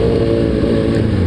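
Motorcycle engine pulling hard in second gear after an upshift, a loud, steady, close low drone with a buzzing harmonic whine and no voice.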